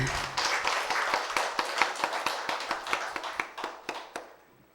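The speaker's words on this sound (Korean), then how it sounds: "우리도 박수 한번 칠까요?" Church congregation clapping together in a steady rhythmic beat, sharp repeated claps under a wash of applause that trails off and fades at the end.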